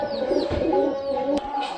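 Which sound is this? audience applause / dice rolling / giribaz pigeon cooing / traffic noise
giribaz pigeon cooing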